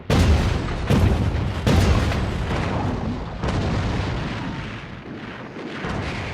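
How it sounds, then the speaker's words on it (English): Naval bombardment from battleships shelling the Normandy coast at Omaha Beach in 1944: loud, repeated heavy booms and rumbling artillery blasts in quick succession, a continuous roar of distant and near explosions with no speech. "Bombardment and shelling from the battleships pound the coast, but completely miss their targets on the beach codenamed Omaha."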